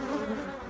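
Honeybees buzzing around a drone-rearing hive near flowering trees, a dense steady swarm drone close by with no voices.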